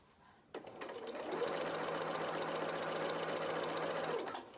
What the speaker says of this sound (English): It's really responding well to the machine and to being machine sewn.